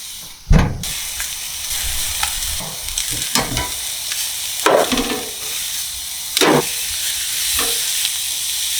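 Steaks sear hot and fast, giving a constant loud sizzle and hiss broken by several sharp bursts of spitting and crackle, as if the meat is moved or flipped, with no talking.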